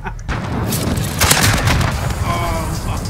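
Loud video-game combat with RPG rocket blasts and gunfire, sustained booming explosions and crackling shots filling the whole stretch, followed by a faint whooshing tail.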